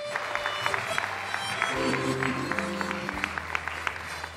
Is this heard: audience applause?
yes